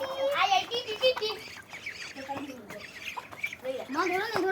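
Ducks squawking and quacking close by in quick bursts as they are given food in a village, mixed with a voice talking at times.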